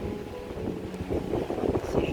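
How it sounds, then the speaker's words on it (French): Strong wind buffets the microphone on a hike at a coastal gorge, a steady loud rushing roar with gusty low-end swells throughout. "C'est venteux, c'est très venteux"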